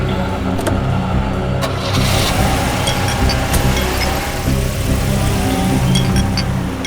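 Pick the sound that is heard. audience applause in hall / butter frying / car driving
car driving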